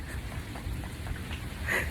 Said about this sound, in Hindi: बारिश की आप आवाज़ सुन रहे होंगे, बड़ी तेज़ हो रही है